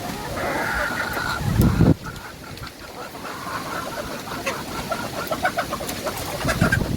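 Native deshi roosters and hens on a farm cluck and coo in the background, with short calls repeating over a steady ambient hum.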